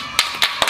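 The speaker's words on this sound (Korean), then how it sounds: "박수!" Three sharp hand claps ring out close by at an evenly spaced pace during a cake-cutting celebration for a K-pop group, each a crisp burst with brief quiet between.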